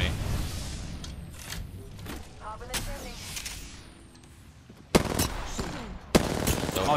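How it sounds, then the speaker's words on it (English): Video game gunfire crackles in rapid bursts, with sharp louder shots near the end, while players talk over it. "Oh, they're shooting at me."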